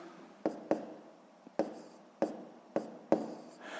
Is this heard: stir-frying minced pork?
no